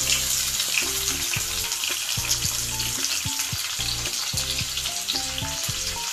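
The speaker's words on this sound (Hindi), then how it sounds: "अब हम इसके अंदर कटी हुई प्याज डालेंगे" Chopped onion frying in hot oil with browned cumin and mustard seeds for South Indian sambhar, a strong steady crackling sizzle heard close, with faint tonal music underneath.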